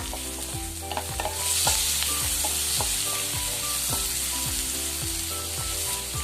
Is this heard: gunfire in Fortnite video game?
no